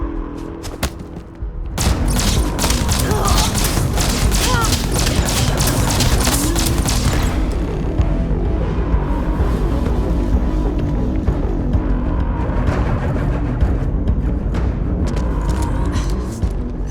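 Combat against Terrormorphs in New Atlantis in the video game Starfield produces loud, dense rapid gunfire and blasts that pile on continuously for most of the stretch, thinning slightly toward the end.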